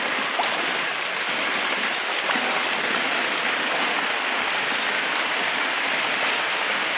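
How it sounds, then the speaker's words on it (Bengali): Heavy rain pours steadily on a wet outdoor yard strewn with plastic sheeting and pooled water, a dense, even hiss close by that holds unbroken throughout with no voices. "আর দেখুন কত বৃষ্টি পড়ছে আমাদের এখানে।"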